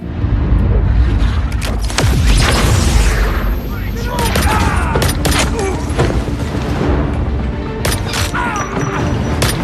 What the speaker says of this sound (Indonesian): Dirinya masuk dengan meledakkan bom dan menembakkan senjatanya ke teroris yang ada di sana.